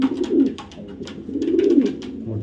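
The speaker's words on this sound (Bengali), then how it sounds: "ডাক কি মাশাআল্লাহ, একদম লাইট রেড চেকার একটা নর কবুতর" A young 2024 light red checker male racing pigeon coos close by, two swelling rounds of low throaty cooing with a brief lull between, alone with no talk.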